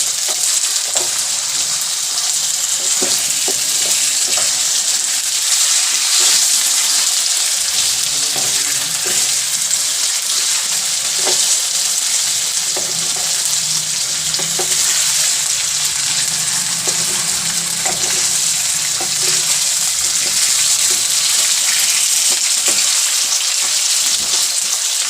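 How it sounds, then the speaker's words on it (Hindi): Aloo palak sabzi of potato and spinach fries in a pan with a loud, constant hiss and sizzle, close up, broken by faint stirring clicks and no talking. "एक से 2 मिनट तक इसको अच्छी तरह भून लेंगे।"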